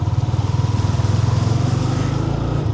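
A motorbike putters along a street flooded after high tide, its engine close and steady with a rapid, even pulsing throb that holds throughout.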